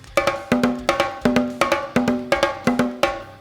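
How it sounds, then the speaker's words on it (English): Hand-played bongo pattern with the left hand alternating between high and low bongo, about ten sharp close strikes in a lively repeating rhythm, with a lower ringing tone marking each cycle; no voices. "while the left hand is keeping a circle of 2 between the high bongo and the lower bongo."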